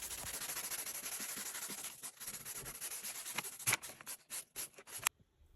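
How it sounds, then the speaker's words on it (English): Coarse sandpaper rubs back and forth over an upcycled wooden flooring board in close, scratchy strokes that grow more broken and halting before stopping abruptly near the end. "I ran a little coarse sandpaper over the surface because I didn't want it to look too smooth"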